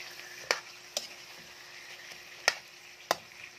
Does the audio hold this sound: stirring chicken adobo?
yes